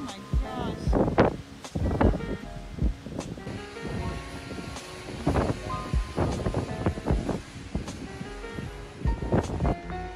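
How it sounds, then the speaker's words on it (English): Strong mountain wind of about 60 mph gusts in repeated heavy blasts that buffet the microphone, roaring between brief lulls, with a faint steady hiss underneath. "the winds have picked up to at least 60 miles an hour"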